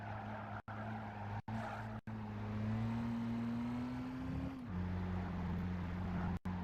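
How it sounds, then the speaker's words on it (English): Engine sound in Gran Turismo 5 plays at low volume as a steady drone that repeatedly cuts out in brief dropouts, with a sustained pitch sliding slowly down before a shift, and no voices. "Even at low volume, I can hear the engine sounds cutting off"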